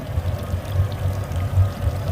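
A Regal boat's motor idles in the water while its telltale stream pours out steadily, a continuous splashing trickle over a low, even engine rumble.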